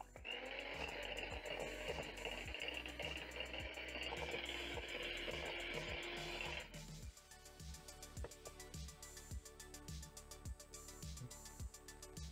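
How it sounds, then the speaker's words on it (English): An electric mixer creams margarine in a mixing bowl, a steady whirring drone with rhythmic beater clicks against the bowl; the motor tone drops partway through while the regular ticking continues. "Cream the margarine for around a minute until fluffy."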